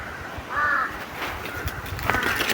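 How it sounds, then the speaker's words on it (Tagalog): Crows cawing outdoors, two hoarse caws, one near the start and one near the end, over rustling and footsteps. "Sumabay pa ang mga uwak dito."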